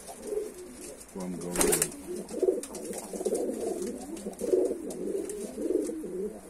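Tumbler pigeons in a loft in Tbilisi, Georgia, coo in low, throaty repeated rolls close by while someone talks over them.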